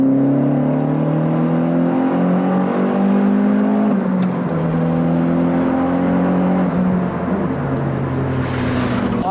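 A turbocharged Renault Clio 182 pulls hard in third gear, engine note climbing steadily and loudly from low speed at half throttle, with a brief dip partway through as revs rise again, no talking.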